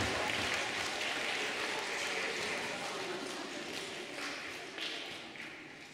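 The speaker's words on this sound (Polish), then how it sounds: "Brawa dla Wiktorii, proszę bardzo." Children clap together at a Lenten retreat for kids and youth in a Polish parish, a steady, dense patter of applause that stays loud and then slowly fades.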